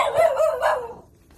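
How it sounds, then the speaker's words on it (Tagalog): Dog barking close by in a rural yard, a quick run of two or three sharp, loud barks that fade out at the end. "Dito aso yung baka magkagat."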